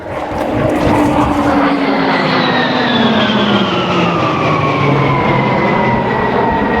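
A Pilatus training aircraft flies over a Swiss farm, its engine drone rising loud and steady, then slowly falling in pitch as it passes overhead, with no talk.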